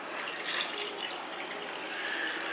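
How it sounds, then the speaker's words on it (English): Water poured into a pot of cooked dal with mashed tomatoes and chilies, a steady broadband splashing stream running unbroken and fairly close throughout, with no talk. "Now I'm going to add more water"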